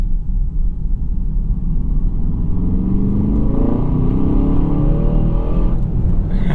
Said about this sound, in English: We hear some more exhaust.